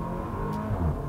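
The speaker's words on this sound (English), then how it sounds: "I wasn't expecting the fart noise in something like this with just the standard exhaust system" A 2019 Porsche Macan with the base engine and standard exhaust rumbles close by on a downshift, with a loud, steady low growl and a brief burbling crackle toward the end.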